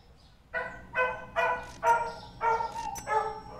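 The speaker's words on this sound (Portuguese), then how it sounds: "Cachorro latindo." A dog barks six times in a quick, even rhythm, close and loud, in a Brazilian-modded Supermarket Simulator game stream, with a faint electronic background.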